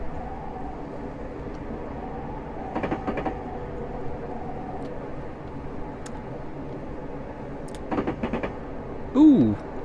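A train pulls to a stop at a railway platform where locomotives are swapped. A low rolling rumble carries a couple of faint clanks, and a brief rising squeal, like brakes, comes near the end.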